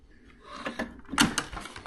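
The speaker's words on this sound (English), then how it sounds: "Right, let's get into the bottom drawer." A bottom drawer of a Lidl Parkside tool case slides open with rattling mechanical clicks and a couple of sharp knocks, close and fairly loud, with no voices.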